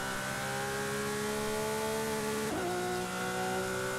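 Lamborghini Aventador SVJ in Forza Horizon 5 revs steadily through its gears, a continuous loud engine note with harmonics climbing, then dropping sharply at a shift before rising again.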